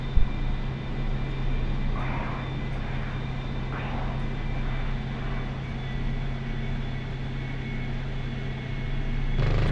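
A-4E Skyhawk jet in the combat flight game DCS diving in to attack, a steady loud engine roar with a constant low drone that swells slightly near the end, no talk.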